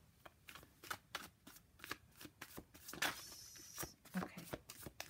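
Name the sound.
shuffling tarot cards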